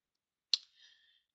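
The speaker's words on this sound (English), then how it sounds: "So I right click and I hit copy." A single crisp computer mouse click, a right click before copying, sharp and close with a brief faint ringing tail in an otherwise quiet room.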